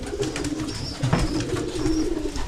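Pigeons cooing close by in a loft where young squab are being raised, a steady low murmuring coo with a couple of brief higher calls over it.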